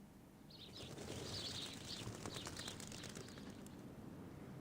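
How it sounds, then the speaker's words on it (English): Birds chirp in a few high, quick bursts over a steady outdoor ambient hiss in the game Reverse: 1999, fairly soft and set back, with no voices. "The sound of birds chirping fills the air."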